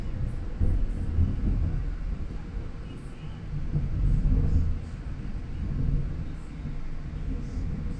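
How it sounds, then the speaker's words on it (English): Thunder rolls in low, muffled rumbles that swell and fade, heard from a distance as a continuous roll with a few faint higher noises on top. "Big thunder, big thunder."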